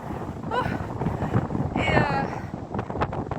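Strong wind buffets the microphone on an exposed mountain summit along the GR 97 in the Luberon, a continuous rough roar with gusty swells, while someone talks through it.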